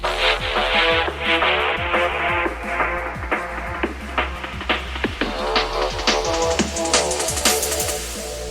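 A punchy jungle drum and bass loop with steady kicks and snares plays under a bright synth lead that rises in brightness toward the end.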